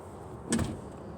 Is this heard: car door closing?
yes